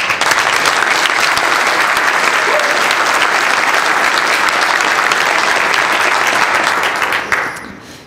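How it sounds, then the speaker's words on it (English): A conference audience gives loud, dense, steady applause for speaker Armin Ronacher before his Python talk. The clapping holds evenly for about seven seconds, then tapers off quickly. "So please give him a big round of applause."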